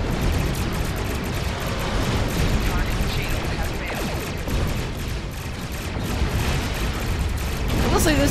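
Continuous dense weapons fire and explosions rumble through a Star Trek Online space battle between Federation and Klingon ships, loud and unbroken, with voices speaking underneath.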